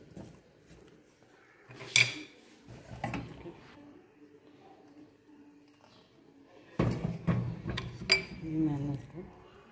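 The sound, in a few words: okra being dished out from a pan, utensils clinking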